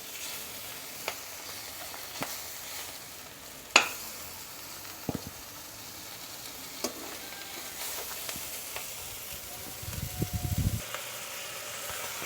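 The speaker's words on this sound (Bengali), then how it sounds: "শুটকিগুলোকে আমি মাঝখান থেকে একটু ভেজে নিচ্ছি" Dried fish (shutki), fairly firm, fried in a pan, a faint sizzle running under scattered clinks and scrapes of stirring, with a sharp knock early and a louder crackling burst near the end.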